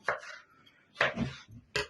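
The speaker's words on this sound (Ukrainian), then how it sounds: "Тепер оце кришить перці сюди соломкою." Three sharp knife strokes on a cutting board as peppers are cut into strips, spaced unevenly, close and fairly loud with quiet pauses between.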